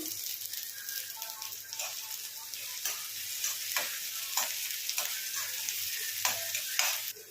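Onions frying in a pan for a drumstick and tomato curry, a soft continuous sizzle with regular stirring scrapes and taps, close but fairly quiet, without talk.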